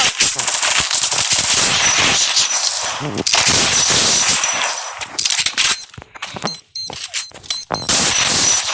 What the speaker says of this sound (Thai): เขาเล่นระเบิดครับ